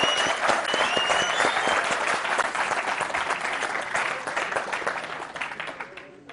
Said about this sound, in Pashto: نو په ویاړ یو چکچک یې خو وکړي که نه